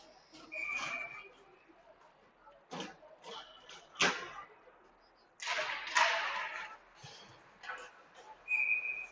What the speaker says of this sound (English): Face off, goes back to Derry and just gets the whistle